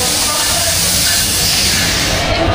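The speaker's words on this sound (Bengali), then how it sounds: "আমাদের ট্রেনটি অলরেডি চলে আসছে।" An arriving train at a station, a loud, steady hiss like escaping air or brakes filling the clip continuously from start to finish, with no clear voices.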